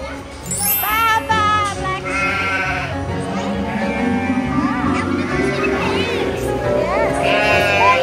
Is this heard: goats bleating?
yes